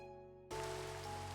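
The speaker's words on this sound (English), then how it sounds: "it started raining as I was heading over there" Rain in the video game Minecraft Skyblock begins abruptly partway through, a steady broadband hiss over faint background music, continuing evenly to the end.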